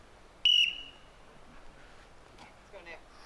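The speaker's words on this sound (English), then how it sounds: "On the whistle." A referee's sharp whistle blast signals the start of a strongman stone-lifting event, a single loud piercing tone lasting about a quarter second, followed by faint crowd voices and shouting in the background.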